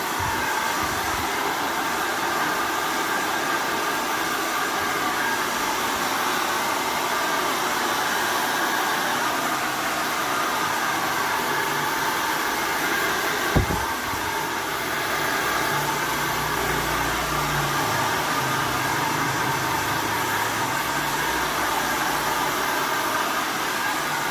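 A hair dryer blows steadily on very wet hair during a hair treatment, a loud continuous close whoosh with one brief knock midway and no talk.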